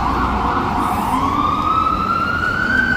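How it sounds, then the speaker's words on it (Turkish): An ambulance siren passes along a Manhattan street in New York, its loud, close wail climbing steadily in pitch over continuous traffic noise. "Bugün çok fazla ambulans geçti gene geliyor."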